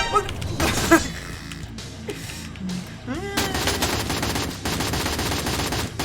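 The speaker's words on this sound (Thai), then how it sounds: "M4 ยิงเร็วมากทุกคนดีดี" An M4A1 rifle in the shooter game Free Fire fires in rapid, dense bursts that stop and start over the stretch, loud and close, with other game effects layered in.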